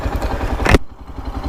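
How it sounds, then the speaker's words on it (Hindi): A 2024 Yezdi Adventure motorcycle runs with a loud, rough, broadband engine rumble that swells briefly, then drops off sharply to a quieter low hum; no one speaks. "अब फटाफट बाइक चलाते हैं और बात करते हैं।"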